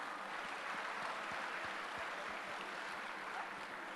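An audience at a professional technical session claps in a faint, steady, distant wash of applause, with no voices over it.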